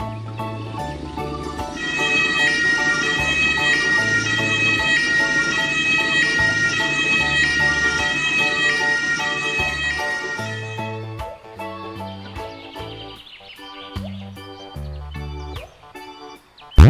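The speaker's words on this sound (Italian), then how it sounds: "Ambulanza" An ambulance siren wails steadily and loudly for about ten seconds over a busy, bright backing, then gives way to quieter, sparser tones.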